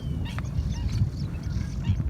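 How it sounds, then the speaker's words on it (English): Geese and other waterbirds honk and call repeatedly over a low rumbling background, several birds at a moderate distance. "Seeing and hearing the birds chirp was simply surreal."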